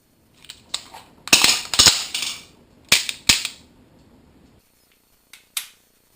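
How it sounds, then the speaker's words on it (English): Handgun slide racked during a reload, a cluster of crisp close metallic clacks and snaps followed after a pause by two fainter clicks, with no voices. "I get a firm gunfighter grip on my slide, and I rack as I present to the target"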